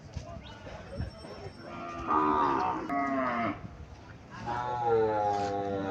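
A Sahiwal bull calf at a cattle market in Cumilla gives two long, loud lowing moos, the second starting after a short pause, over a busy market background.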